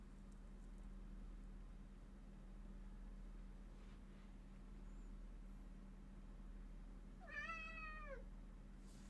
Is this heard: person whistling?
no